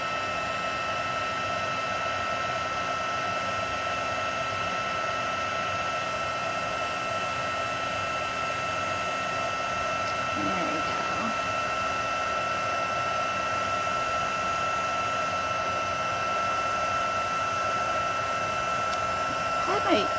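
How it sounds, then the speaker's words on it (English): A craft heat tool blows a steady, even whoosh with a high whine as it melts embossing powder, running unbroken for about twenty seconds at moderate loudness. "The heating tool does get super duper hot"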